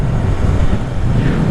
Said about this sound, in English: man, that wind is blowing